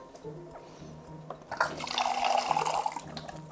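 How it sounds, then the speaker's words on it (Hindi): Water gushes from the nozzle of a homemade 12V Peltier TEC-1 12710 hot water dispenser: faint drips and a soft hum come first, then a strong, close splashing stream that fades near the end. "आप देख सकते हैं बड़ी स्पीड से इसके अंदर से पानी निकलता है"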